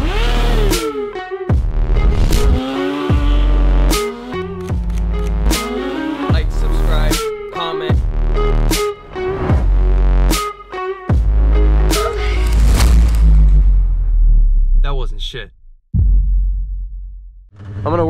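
A stunt motorcycle engine revving hard and dropping repeatedly while the rider practices hand drags, loud and close with rhythmic throttle blips and gear shifts, ending in a sharp roar and cutoff.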